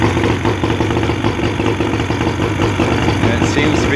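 A 40 hp Johnson outboard engine runs after a carburetor rebuild, holding a steady, rough mid-pitched idle with a continuous mechanical chug throughout, loud and close.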